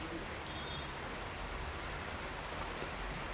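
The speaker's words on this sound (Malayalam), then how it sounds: "നല്ല മഴയൊക്കെ പെയ്യുന്നുണ്ട്" Heavy rain pours down in a dense, unbroken roar, with a faint bird call briefly audible in the background.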